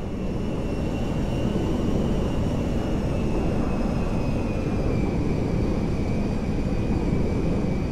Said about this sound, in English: On the Meriwether jet. We are now landing in Mackenzie Field.